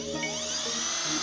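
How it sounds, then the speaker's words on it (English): A power drill whines continuously at high pitch, running steadily near a backyard pool, with no talk over it. "she turned on the drill"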